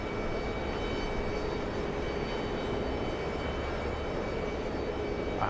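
A Boeing C-17 Globemaster military transport aircraft on final approach gives a steady, broad jet roar that holds at an even level throughout, distant but continuous, with no voices.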